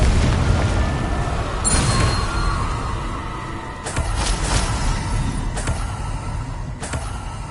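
Confringo blasting spell in the Hogwarts video game, heard as a few sharp, booming impacts with bursts over a steady background of game sound.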